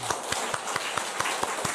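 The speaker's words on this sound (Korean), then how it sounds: "우리 하나님께 영광의 박수 올려드립시다" A church congregation claps in praise during a Sunday service, sharp hand claps falling in a steady rhythm about every quarter second, moderately loud over a light roomy background with no voice on top.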